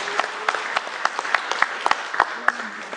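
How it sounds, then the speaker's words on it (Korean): A church congregation at a Sunday service in New Jersey breaks into applause, a few seconds of uneven, moderately close clapping from many hands with no clear rhythm. "우리 박수 한번 할까요?"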